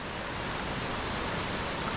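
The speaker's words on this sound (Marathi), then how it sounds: "एवढा मोठा धबधबा आहे" A large waterfall roars with a dense, steady rush of falling water, constant and even throughout with no voices over it.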